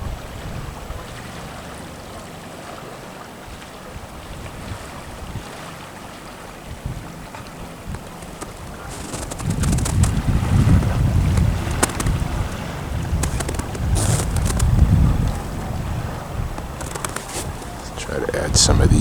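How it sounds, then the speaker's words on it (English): River water flowing near a highway in Lethbridge, a steady broad rushing wash that swells louder partway through, heard outdoors with wind buffeting the microphone. "Now you don't really hear the highway so much as the water."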